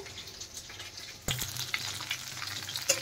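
Bata fish shallow-frying in a pan for a mustard-paste jhal, a steady crackling sizzle that turns louder and denser partway through, with a few sharper pops near the end.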